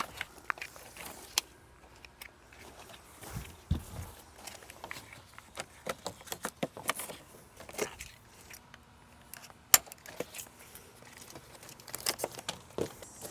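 Metal snips cutting deck channels outdoors, scattered sharp snipping and clicking sounds at irregular intervals, close and fairly faint among quiet handling noises.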